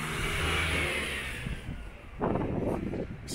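Road traffic passes in Llangollen, North Wales, a car's engine swelling and fading close by, followed by another vehicle approaching with a rising rumble and wind noise.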